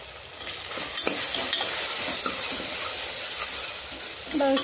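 Ginger garlic paste and biryani masala for mutton biryani sizzle and fry in hot oil, a steady close crackling hiss with occasional scrapes of stirring.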